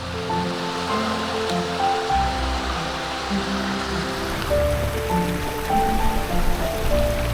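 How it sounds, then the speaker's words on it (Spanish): Water plunging from a cliff into a curtain-like waterfall on a hiking trail near Orcera in Jaén, Spain, a steady broadband rushing roar that holds close and constant throughout with no voices. "el agua se precipita literalmente al vacío formando una bonita y húmeda cortina"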